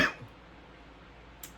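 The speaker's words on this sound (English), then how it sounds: "That was a nasty cough, wasn't it?" A single sharp cough bursts out at the start, then near silence with faint room noise and a small click near the end.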